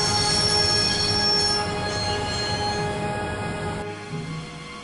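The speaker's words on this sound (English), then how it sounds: "always wanted to stop a train, and now was my chance" Squealing wheels of a train braking to a stop in the Broken Sword video game, a loud sustained metallic screech with steady tones that cuts off abruptly, leaving a quieter rumble behind.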